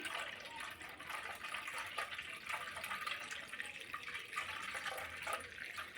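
Ragi (finger millet) milk trickles and splashes steadily through a sieve, a soft continuous pouring sound with faint drips.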